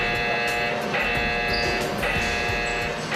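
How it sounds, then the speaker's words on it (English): A loud smoke detector alarm blares in harsh, repeating tones, pulsing in bursts about a second apart, close and continuous. "The alarm has been activated"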